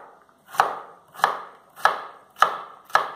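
A knife chops an onion on a cutting board in five evenly spaced, sharp close strikes, each a quick thunk with a short tail, no talk.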